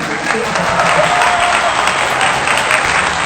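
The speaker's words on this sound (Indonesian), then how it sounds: "Boleh lah tepuk tangan para tamu undangan." Wedding guests applauding in a luxurious Jakarta wedding hall, a loud sustained burst of many hands clapping, with crowd voices and some talk mixed in.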